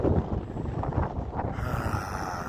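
Gusty northeast wind buffets around a small wind turbine rig, a rough, close roar that swells and eases over a couple of seconds, with no voices.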